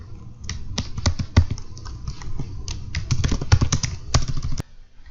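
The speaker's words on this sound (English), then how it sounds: "you can simply go here to Add New Event Type, and you can type it in." Typing on a computer keyboard while entering a new event type, heard as rapid, close, steady clicking keystrokes in a continuous run that stops abruptly near the end, with no talk.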